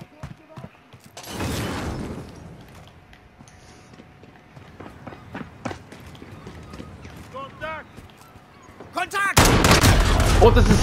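Bursts of single-shot gunfire in Modern Warfare on the Docks map, a few scattered shots then a loud sustained volley at the end, with voices talking over the action.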